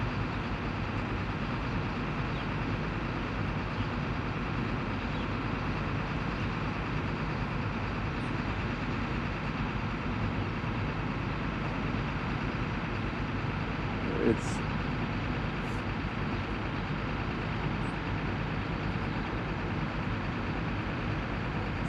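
Several school buses idle together while warming up on an afternoon at a West End school lot, a steady, even diesel drone that holds throughout, with a faint brief clank near the middle.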